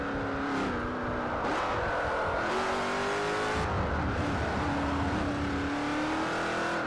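Loud, close engine roar from a car in Forza Motorsport 4 during a Class A race, revving up through several gear changes with the pitch rising and dropping sharply, steady and uninterrupted.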